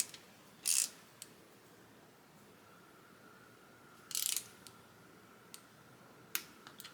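A torque wrench ratchets on engine bolts during a Miata engine build, two short bursts of rapid clicking with scattered single clicks between, quiet and close.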